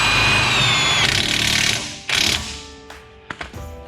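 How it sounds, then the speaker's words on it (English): A power tool whirs steadily as it drives a bolt back into the suspension of a Mazda CX-5 during a lift kit install, then stops, followed by a few metallic clicks and taps nearby. "I'm gonna just run the bolt back in."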